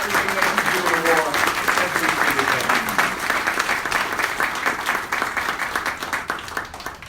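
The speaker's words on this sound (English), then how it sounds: "Please give yourselves a huge round of applause" Dense, sustained audience applause at an awards ceremony honoring a mayor, loud and close, with some cheering voices mixed in before the clapping gradually thins out.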